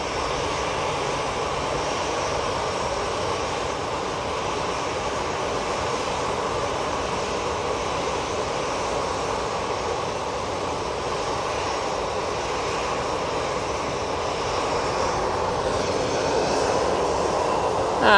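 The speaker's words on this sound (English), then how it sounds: "And Mighty Orange now departing." Departing from Manchester Airport, the easyJet aircraft called Mighty Orange gives a steady, moderately distant jet engine drone that stays even, then rises a little near the end.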